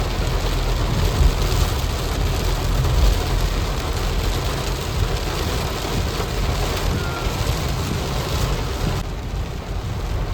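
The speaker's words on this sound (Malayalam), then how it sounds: "ഭയങ്കര മഴ. റോഡൊന്നും കാണുന്നില്ലല്ലോ" Heavy rain drums steadily on a car driving along the NH66 highway in Kerala, a dense loud wash of water and road noise with wind rush that never lets up, with no talking.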